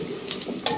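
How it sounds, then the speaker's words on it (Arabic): Peas, onion and pepper sautéing in a pan, a soft steady sizzle with a few brief stirring scrapes, close and alone. "انا هدي تشويحه للبسله مع البصل مع الفلفل كده الاول"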